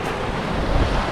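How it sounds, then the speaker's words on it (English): Steady broadband wind rushing across the microphone on a calm morning coast at Candidasa, Bali, a continuous rumbling hiss with no distinct pauses or other sounds. "A little bit windy, but there's no waves."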